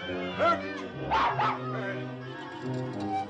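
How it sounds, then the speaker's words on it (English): A small terrier-type dog yips and barks indoors in a few short bursts, fairly close, layered over a sustained orchestral film score. "How did that dog get in here?"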